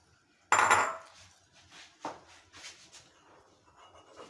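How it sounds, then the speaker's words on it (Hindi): Sugar tipped into a metal cooking pot while preparing Mianwali kamakhandi halwa gives a sharp granular clatter against the metal, then a second softer knock and light scraping follow, close and alone with no talk. "अब हम सबसे पहले चीनी को डालेंगे एक बर्तन में।"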